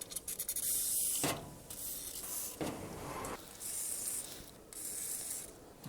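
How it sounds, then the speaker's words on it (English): Penetrating oil sprayed onto the spark plugs of an airplane engine left unused for 14 years, heard as several hissing aerosol bursts in close succession, fairly quiet and close, with no talking. "let's get some penetrating oil up on these plugs"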